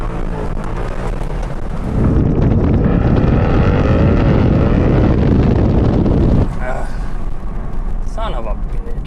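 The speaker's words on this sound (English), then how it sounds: "Do a little bit of a roll on the throttle in second gear and see what happens." A Mercedes C63 set up for SCCA racing accelerates hard on a throttle roll in second gear, its engine surging loud and close for several seconds before cutting back, with wind buffeting the microphone and a voice talking afterward.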